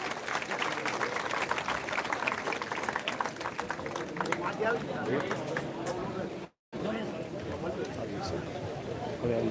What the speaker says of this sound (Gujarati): તાળીઓના ગડગડાટથી આપણે એમને વધાવી લઈશું